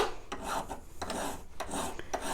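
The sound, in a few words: hand file filing edge of sterling silver sheet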